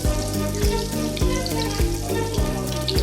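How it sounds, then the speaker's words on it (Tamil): Chilli chicken pieces frying in hot oil, giving a steady, loud sizzle with periodic low thumps, likely from stirring or the pieces shifting in the pan, and no voices. "இப்போ இதை நான் எண்ணெயில் போட்டு ஃப்ரை பண்ண போகிறேன்."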